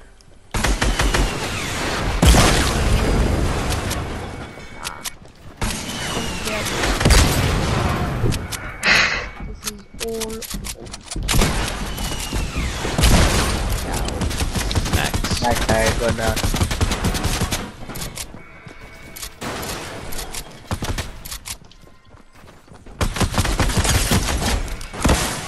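Bursts of rapid video game minigun fire crackle in dense, loud stretches, broken by short pauses, with excited talk from players mixed in among the shots.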